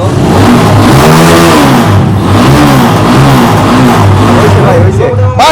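A fresh-condition Lifan Lончин-type motorcycle engine, a Loncin GB, revs loudly and steadily near the listener, its note rising and falling over several blips throughout, with someone talking over it.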